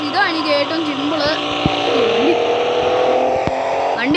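A game car engine in Traffic Racer, Russian village map, drones and revs in a steady high whine with shifting pitch, near and loud, under a person talking, with a few sharp clicks.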